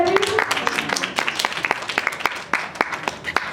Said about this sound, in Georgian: აპლოდისმენტები.